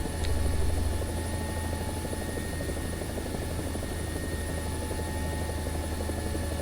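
Helicopter in War Thunder flying low with the collective dropped, a steady dense rotor and engine roar with a constant high whine, continuous and close throughout.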